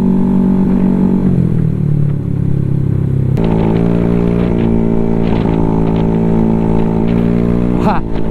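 A Vario 210cc scooter engine in its running-in stage, ridden at around 45 km/h, drones steadily and close up with a shift in pitch partway through, while a rider's voice talks over it.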